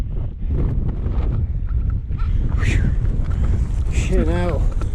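Strong gusting wind on the summit of Lliwedd buffets the microphone in a loud, continuous low roar, with a brief high whistling tone near the end.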